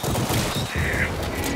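Rapid gunfire aimed at a boss's tentacles in the VR shooter After The Fall comes as a dense, loud burst of overlapping shots, continuous and close.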